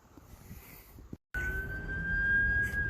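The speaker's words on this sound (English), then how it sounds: "Never mind the police sirens and the train." A steady, distant police siren wails on one sustained tone after a brief cut, with low background rumble and no voices.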